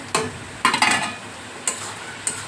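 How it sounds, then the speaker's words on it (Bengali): Taro leaves are stirred in a pan over heat, making a few scattered spatula strokes and scrapes against the metal with faint sizzling between them, close by and alone. "যতক্ষণ না কচু শাকের থেকে জল শুকিয়ে যাবে ততক্ষণ কিন্তু আমি এইভাবেই এটাকে নাড়তে থাকবো"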